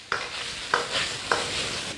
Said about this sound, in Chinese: 用大火爆炒一下